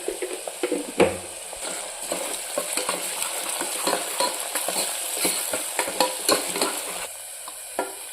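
Mutton with masala, turmeric and ground paste frying in hot oil in a pressure cooker, a steady sizzle with repeated scraping strokes of a spoon stirring the pan, close and fairly loud throughout.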